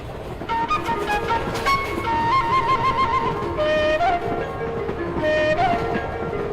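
A train rolls along its rails during a passenger journey, with a steady, dense rumble that fills the whole clip and a melodic tonal line drifting over it.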